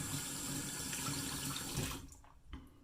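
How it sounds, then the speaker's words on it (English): Water runs steadily from a bathroom tap to wet a double-edge safety razor, a close, continuous splashing stream that cuts off near the end with a couple of brief drips. "So now we put water on this."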